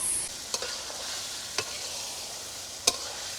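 Goose meat being stir-fried in a pan at an outdoor cooking spot in the Sundarbans, with a soft steady sizzle under a few sharp utensil clicks against the pan.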